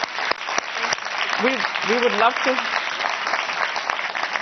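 Audience applause at an IMF annual meeting panel fills the room as a dense, steady patter of many hands clapping, with a voice speaking briefly over it.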